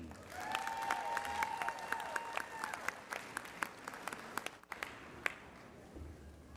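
Audience applauding graduates of the College of Business and Industry at a fall university commencement, a steady wash of many hands clapping with sharp individual claps standing out, while a voice briefly speaks over it.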